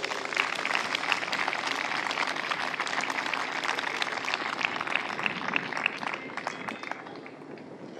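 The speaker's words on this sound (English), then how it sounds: "Please give them a big round of applause" Crowd at a youth baseball opening day ceremony applauding outdoors, a steady wash of clapping from a distance that gradually thins and fades toward the end.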